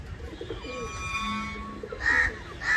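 Pigeons coo softly in a low, murmuring pattern, with brighter bird calls breaking in near the end over a steady background hum.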